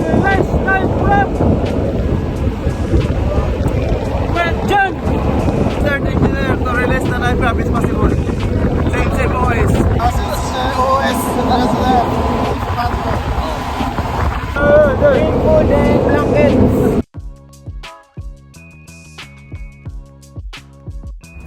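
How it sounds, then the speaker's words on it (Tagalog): A ship's lifeboat engine runs during an onboard emergency drill, a loud, steady motor drone with wind rushing across the microphone and voices over it, cutting off abruptly near the end to a much quieter, different sound. "At ito na nga demonstration kung paano pag-anahin ang lifeboat using her engine."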